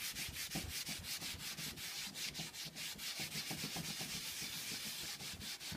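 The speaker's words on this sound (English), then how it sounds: "What I'm trying to do is really just work this dark wax into my paint." A cloth rubs dark furniture wax into painted, unsanded furniture in steady, rapid back-and-forth strokes, close and continuous with no talking.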